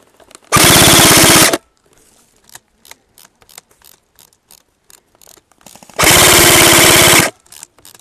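Gunfire from the side in an Airsoft or gaming match at Castillejos: two long, loud, sustained bursts of rapid automatic fire, with quieter scattered pops and clicks between them.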